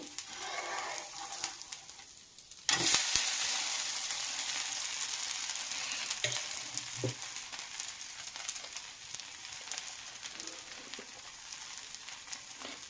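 Dosa batter frying in oil on a hot pan, with a sudden bright sizzle rising at about three seconds and then holding steady and close, with light clinks and scrapes over it.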